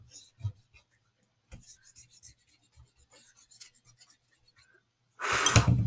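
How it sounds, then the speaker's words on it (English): Chalk powder being erased from black paper: a few light scattered rubs, then a loud, close, rasping scrub at the end, with no voices. "So I'm going to kind of try to erase it."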